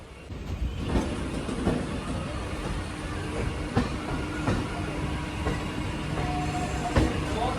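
A local train runs on rails between Ghaziabad and Delhi, with a steady loud rumble, irregular wheel clicks and clatter, and a brief high squeal near the end.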